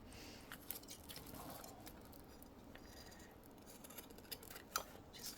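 Scissors snipping fabric at a seam while tidying up an iron caddy, a series of quiet, close, irregular cuts and rustles with no talking.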